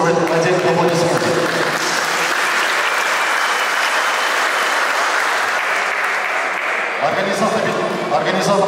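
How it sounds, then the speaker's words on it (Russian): Applause from an audience at a university volleyball tournament in Dagestan, a steady broadband clapping that fills most of the clip, with talk audible under it at the start and end. "Я думаю, это заслуживает отдельных аплодисментов"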